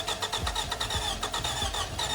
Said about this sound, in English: And I asked my friend to go and start the car.